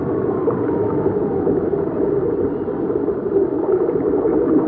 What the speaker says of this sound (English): Sound of it, the water's just about filled.